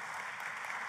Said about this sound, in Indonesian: Tepuk tangannya yang meriah buat Tuhan.